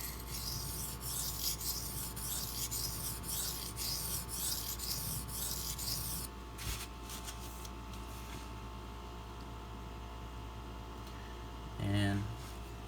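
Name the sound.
knife blade grinding on a sharpening stone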